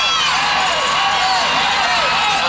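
A crowd at a women's gymnastics meet between Air Force and Clemson roars and cheers steadily, a dense loud wash of voices with a commentator's speech riding over it.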